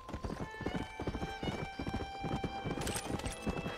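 Horse hooves clip-clopping in the Red Dead Redemption video game, a brisk, steady run of close hoofbeats over game music with a short whinny.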